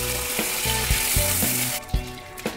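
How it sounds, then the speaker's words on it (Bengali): A fish head, already part-fried, fries with nigella seeds in a steady bright hiss, with dull knocks of stirring. A low humming tone runs underneath, and the sizzle drops away partway through, leaving a few thuds. "কালো জিরে দিয়ে মুড়ো দিয়ে ভেজে নেবো"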